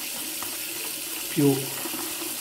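Tap water runs briefly while shaving lather is being whipped up, a short near burst of flow and splashing that rises over a steady quiet background, with a single word spoken.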